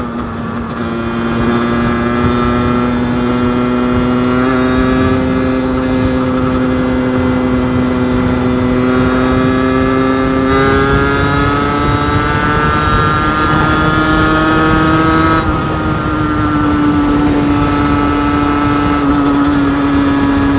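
A Beta 50 RR 50cc motorcycle engine drones steadily up close, its pitch rising and easing slightly as the bike rides on, with no talking.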